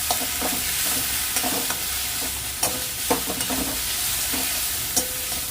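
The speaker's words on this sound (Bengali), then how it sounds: "এটাকে আমি এবার ভালো করে নাড়বো।" Spiced food with red chili, cumin and coriander powder being stirred in a frying pan, a steady sizzle broken by repeated clacks and scrapes of the spoon, close up with no talking.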